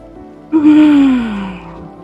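During a yoga pose, one sharp intake of breath swells into a long, audible exhale that tapers off, close and alone after a short quiet start.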